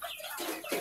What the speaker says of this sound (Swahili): Ona huyo jogoo huyo mwekundu.